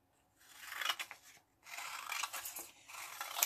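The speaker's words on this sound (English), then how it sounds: "Scissors cutting paper or scissors cutting fabric." Scissors snip through paper while a 3D fish shape is cut out in a craft workshop: two close, crisp cutting runs with a short pause between them, no voices.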